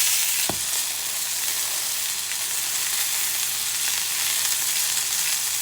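Portuguese sausages and bread fry in hot oil with a loud, constant sizzle, broken by a brief clank of a utensil near the start.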